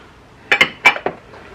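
Soft plastic fishing lure molds cracked open after shooting melted plastic baits, a few sharp hard clicks and clacks in two close bursts, nearby and fairly loud, then quiet.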